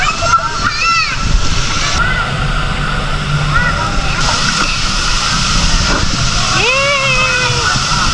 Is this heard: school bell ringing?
no